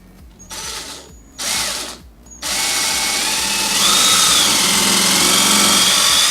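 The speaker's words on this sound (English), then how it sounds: "now I'm just going to screw it in." A power drill drives a screw into a wall to hang a 3D-printed clamp meter mount. Two short close whirring bursts come first, then a longer continuous loud run with a ratcheting edge.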